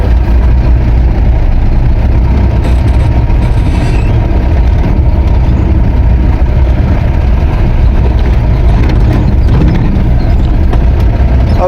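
A Mahindra Bolero pickup drives in second gear, giving a loud, continuous engine drone and road rumble heard from inside the cab, with faint clatter and no clear voices.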